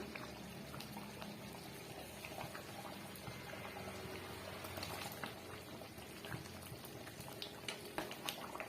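Thick brinjal (eggplant) gravy simmers in a pot, making a soft, continuous bubbling with scattered small pops, quiet and close, with no voices.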